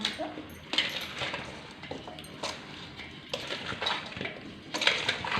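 Mango pickle is stirred in a vessel, with repeated clinks and scrapes of a metal spoon against the pot at an uneven rhythm, close and moderately loud.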